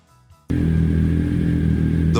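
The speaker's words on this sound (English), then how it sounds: "This is the 1994 Triumph Speed Triple, the T309" A 1994 Triumph Speed Triple T309 motorcycle engine starts up abruptly after a quiet moment, then settles into a loud, steady, close idle with a brief clatter near the end.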